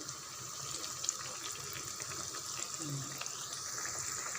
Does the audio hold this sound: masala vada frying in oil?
yes